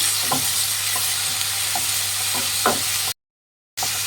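Chopped onion and tomato frying in a pan for lima bean upma, a steady hiss with soft repeated stirring scrapes, close and alone, cut by a brief dropout near the end.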